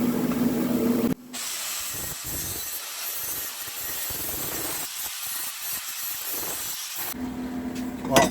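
A harsh, steady crackling hiss of a welder welding exhaust on a Polaris RZR side-by-side, running for several seconds, loud and close, with short pauses at the start and end.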